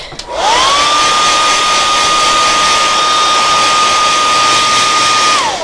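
A heat gun blows loudly and steadily at close range for several seconds, heat-setting freshly sprayed paint, with a whining tone that rises at switch-on and drops as it cuts off at the end.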